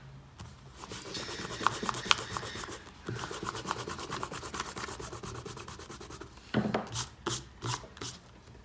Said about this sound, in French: On peut gommer notre trait de construction.